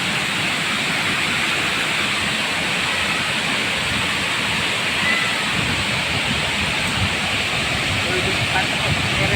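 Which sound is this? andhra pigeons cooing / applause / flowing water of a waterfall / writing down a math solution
flowing water of a waterfall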